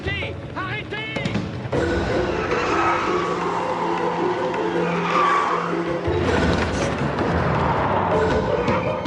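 A car speeds away with tires squealing and skidding on pavement, a loud, sustained screech over engine roar, with shouting voices at the start.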